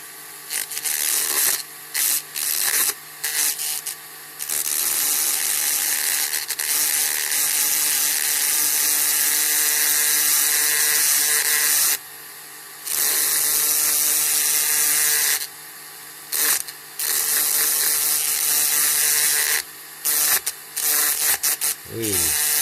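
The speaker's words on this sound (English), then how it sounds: "I've got a Dremel with the burr" Dremel rotary tool fitted with a burr grinds on a 1956–63 Dinky toys Bristol 450 die-cast model during restoration, making loud high whirring and rasping bursts that start and stop repeatedly over about twenty seconds.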